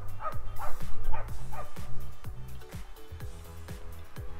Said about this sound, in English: Is that dog done barking?